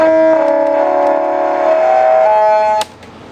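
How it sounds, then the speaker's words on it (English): A glitchy horn voice from a circuit-bent Casio keyboard: a loud, steady, siren-like tone with layered buzzy harmonics that wavers slightly, then cuts off abruptly with a click near the end. "Let's do horn. Oh, it's all glitchy."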